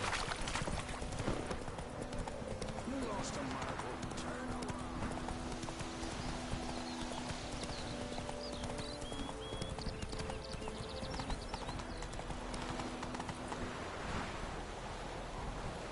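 Continuous clip-clop of horse hooves in The Witcher 3 at a steady trotting rhythm, with windy, surf-like background noise throughout.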